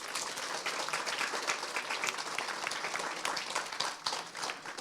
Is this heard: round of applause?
yes